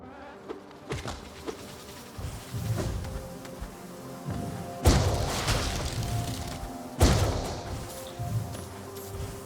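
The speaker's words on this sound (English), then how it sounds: "Huge fat bee." A huge fat bee buzzes in the Hollow Knight video game, a steady insect drone running under game music and effects, with two louder bursts of impact partway through.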